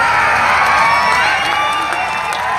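Loud crowd at a Gujarati folk concert in Vadodara cheering and clapping continuously, a dense roar of applause with whoops rising through it.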